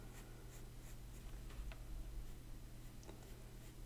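Pencil strokes on paper drawing parallel Zentangle lines, a soft, close scratchy writing sound in short repeated strokes over a steady low background hum, with no talking.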